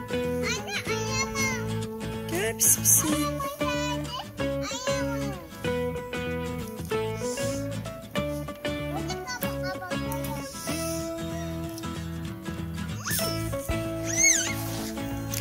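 A cat meows repeatedly in a village yard, several drawn-out, rising and falling cries spaced through the stretch, close and clear, while a child and an adult speak around it.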